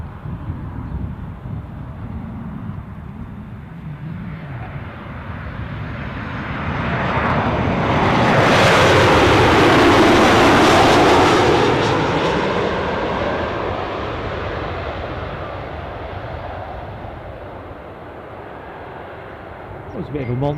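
A large aircraft in Chewy livery passes near Newcastle Airport, its jet roar swelling to a loud, broad peak midway and then fading, with wind buffeting the microphone.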